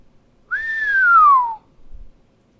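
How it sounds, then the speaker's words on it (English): A single long whistled note glides gently downward, clear and close, followed by a faint low thump. "Fleury whistled."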